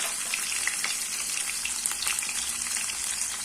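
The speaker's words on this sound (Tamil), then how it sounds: "இது வெங்காயம் கொஞ்சம் வதக்கட்டும்" Small onions and garlic frying in oil for a drumstick and brinjal curry, a steady bright crackling sizzle heard close and continuous with no talk.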